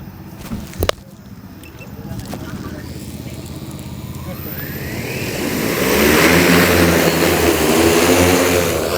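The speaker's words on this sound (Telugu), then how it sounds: "సో ఆ డ్రోన్ స్ప్రేయింగ్ కోసం వెళ్ళింది" An agricultural spraying drone spins up and lifts off, its rotors building into a loud, steady buzzing drone that swells to full power in the second half, with people talking over the quieter start.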